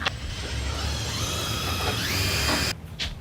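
Power drill pre-drilling a hole to mount top track, a steady close whir running for nearly three seconds before cutting off abruptly, followed by a short faint clatter.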